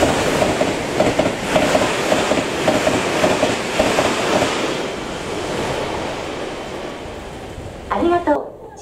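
A Meitetsu Nagoya Main Line train passes Kō Station at speed, a loud continuous rushing roar with rhythmic clickety-clack of wheels over rail joints, fading slightly before a brief station chime near the end.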